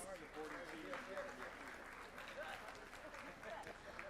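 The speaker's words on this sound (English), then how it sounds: "Let's give Devin Hancock another round of applause." An audience at a school board meeting gives an honoree a round of applause, a sustained, moderately loud clatter of many hands, with a few voices murmuring or calling out underneath.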